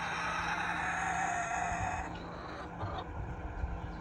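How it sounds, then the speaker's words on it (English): A flock of chickens on a farm clucks and murmurs steadily over a constant hum of ambient noise, the chatter softening slightly partway through. "Happy chickens."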